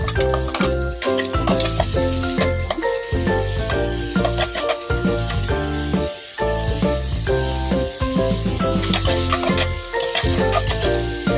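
Ginger fries in hot oil for chicken tinola, giving a constant close, dense sizzle with light crackles, heard alongside background music.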